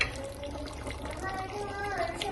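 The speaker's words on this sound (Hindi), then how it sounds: "इसमें अब पानी डाल देते हैं ताकि जितना आपने शोरबा करना हो उतना पानी डाल दें।" Water poured into a pot of aloo gosht, a potato and beef curry, making a steady splashing, gurgling pour that runs through the whole stretch at moderate, close level.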